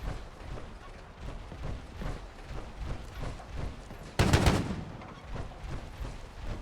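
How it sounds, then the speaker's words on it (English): A loud gunshot burst from a Fallout 4 firefight cuts through a noisy, rumbling game background, one short sharp blast standing out near the end. "God, how many times do I need to shoot this guy?"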